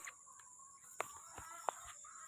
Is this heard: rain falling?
no